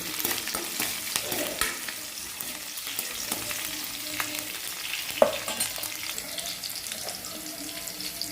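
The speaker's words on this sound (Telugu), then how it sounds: "ఎల్లిపాయలు ఇప్పుడు పచ్చిమిర్చి చేసుకోవాలి ఇవన్నీ కాసేపు వేగాలండి" Onions and green chilies, with curry leaves, fry softly in a pan for sabudana khichdi: a quiet, steady sizzle with occasional clinks and scrapes, heard alone without talk.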